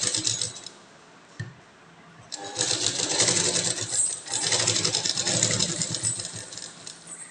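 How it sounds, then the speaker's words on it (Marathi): A sewing machine stitches a velvet blouse, starting with a short burst, pausing, then running in a quick rattling run of stitches, close and fairly quiet, with a brief stop near the middle. "मी याच्यावरती शिलाई तुम्हाला करून दाखवणार आहे"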